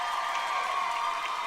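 A comedy show audience claps and cheers for Joe Jonas, a steady, full wash of applause from a large crowd filling the room without a break.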